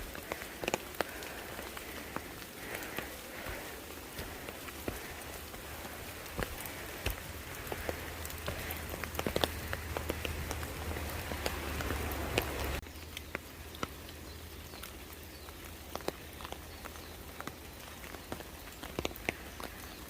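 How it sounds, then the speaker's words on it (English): Steady rain patters on surfaces for a long stretch along a Jeju Island trail, with scattered sharper drip clicks; a low rumble underneath fades out partway through. "You can't beat the sound of the rain and birds chirping."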